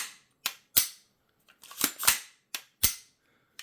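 Sharp metallic clicks from a pistol being dry-fired, heard as scattered single snaps and a few quick pairs of trigger and reset clicks, close and crisp against silence.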